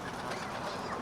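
A flock of ducks, geese, doves and seagulls being fed outdoors gives brief overlapping clucking calls close by, a short burst of bird chatter.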